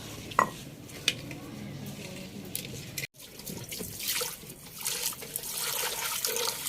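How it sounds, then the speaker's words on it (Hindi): An old clay pot being washed with water: running water splashes steadily, broken by a few knocks and clinks of the pot, close by and fairly quiet, with no speech. "मेरा दिल कर रहा है मैं इसे धो लो जरा एकदम"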